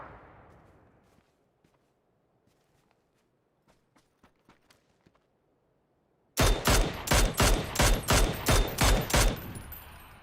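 Gunfire in the battle royale game PUBG during a competitive tournament match, a few soft distant shots and footsteps, then a sudden loud, close burst of rapid, rhythmic rifle fire.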